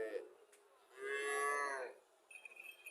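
A Friesian dairy cow at a market gives one full, steady moo lasting about a second, preceded and followed by faint, scattered background noises.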